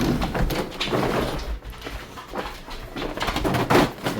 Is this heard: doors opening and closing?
yes